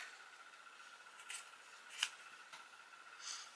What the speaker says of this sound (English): Trim that off.